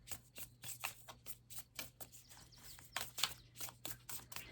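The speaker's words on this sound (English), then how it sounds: "let me pull one of these Starseed Oracle cards" Oracle cards from a Starseed deck shuffled and drawn by hand, a faint, steady run of quick papery flicks and riffles with no talk over them.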